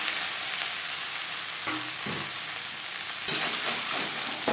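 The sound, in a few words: ridge gourd added to the pan, frying and being stirred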